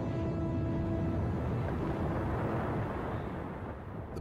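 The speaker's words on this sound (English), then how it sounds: "Piper Alpha, the largest oil platform in the North Sea, is rocked by a series of explosions." A sustained, heavy rumbling roar like a massive explosion and fire on the Piper Alpha oil platform in the North Sea, a dense low wash of noise that holds steady and slowly fades near the end.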